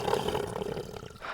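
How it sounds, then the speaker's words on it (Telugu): Spring water and trapped air roar through a buried pipe, making a continuous low, growling, animal-like moan at moderate loudness. "గొట్టం అయితే కిందకి అయితే ఉంది అక్కడ వాటర్ వెళ్ళేటప్పుడు అక్కడ కొద్దిగా గాలి ఉండడం వల్ల ఆ సౌండ్ అయితే వస్తుంది"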